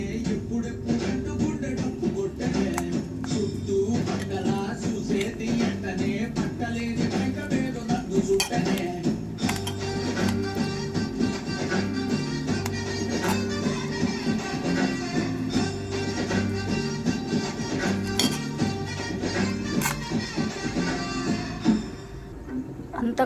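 Spices and lemon juice being mixed into food with a metal utensil, heard as repeated clinks and scrapes against a pot or dish in an uneven stirring rhythm that runs throughout, close and fairly loud.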